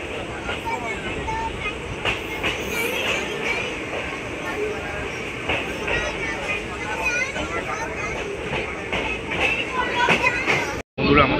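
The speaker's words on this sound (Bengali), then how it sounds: "আমাদের ট্রেন ছেড়ে দিল বোলপুর শান্তিনিকেতন থেকে" The 13017 Ganadevta Express pulls out of Bolpur Shantiniketan station on the Howrah to Rampurhat run, with a continuous loud rumble and wheel clatter under faint background voices, then a sudden brief dropout near the end.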